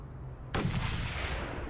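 A single loud, sudden gunshot in the Mad Max video game fires at a sniper, with a reverberant boom and tail that fills the rest of the short moment after a quiet lead-in.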